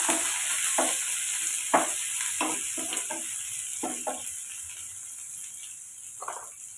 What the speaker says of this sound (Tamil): கொஞ்சம் கருவேப்பிலை கருப்பில் சேர்த்து வதக்கி எடுத்துக்கலாம்